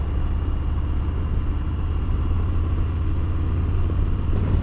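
A Harley-Davidson Fat Bob motorcycle engine rumbles steadily nearby, a continuous deep, pulsing throb with no talking over it.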